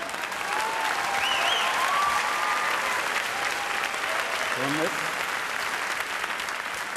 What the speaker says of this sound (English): Applause break number 2.